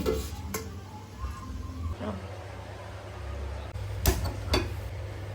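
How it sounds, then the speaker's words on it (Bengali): Whole garam masala and four or five bay leaves sizzle in hot oil for a mutton curry, a steady close frying hiss with a few sharp clatters of a spoon against the pan. "আর বেশ কয়েকটা তেজপাতা দিয়ে দিলাম, ওই 4-5টা মতো দিয়ে গরম তেলে ভালো করে এটাকে সাঁতলে নিচ্ছি"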